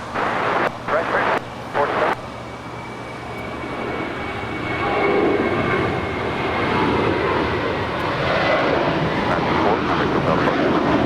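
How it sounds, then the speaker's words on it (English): An American Airlines Airbus A321 departs from LAX airport, starting with brief bursts of voice and noise, then a distant engine roar that swells and holds as the jet climbs away. "Next departure here on the south side is American Airlines Flight 4 heading to JFK. It's an A321"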